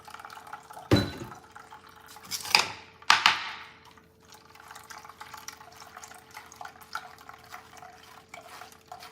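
Brewed liquid for tea is strained into a vessel. A few splashy pours and clinks come close together, followed by soft trickling and scattered drips against quiet background hum.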